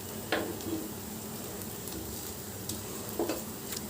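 Something roasting crisp in ghee in a pan gives a quiet, steady sizzle with a few faint clicks of a utensil, close by and alone without speech.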